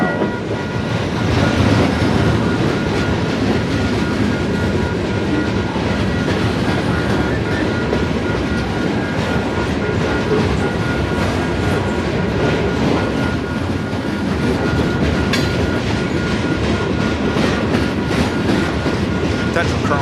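A CN or Amtrak train rumbles steadily past with continuous clattering wheels and rail noise, loud and close throughout.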